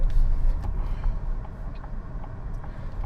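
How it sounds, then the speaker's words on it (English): Steady low road rumble and engine drone heard from inside a moving 2026 Kia Seltos GTX (A) with a 1.5-litre turbo petrol engine and dual-clutch transmission, with faint intermittent knocks over the hum. "right now we are driving a car. The model name is Kia Seltos."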